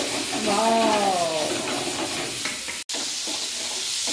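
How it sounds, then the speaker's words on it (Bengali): Chicken dropped into smoking-hot mustard oil, a loud continuous sizzle and spatter close by, with a sharp clatter near the end, while a person talks over it. "তেলটা খুব ভালো মতো গরম করা হয়েছে, তেল থেকে ধুয়ো উঠছে দেখতে পাচ্ছি। হ্যাঁ, এবার চিকেনটা এর মধ্যে ছেড়ে দেওয়া হলো।"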